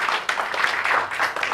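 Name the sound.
audience applause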